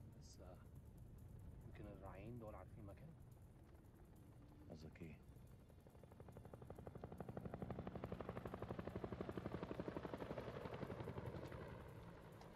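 Helicopter in the video game House of Ashes, a rotor drone with a rapid chopping pulse that swells louder across the second half and then eases slightly, preceded by short bursts of game sounds.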